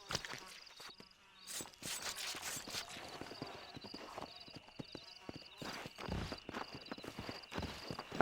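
In the Red Dead Redemption 2 video game, horse hooves clip-clop in an irregular, continuous walking rhythm. A horse neighs now and then and someone talks over the sound.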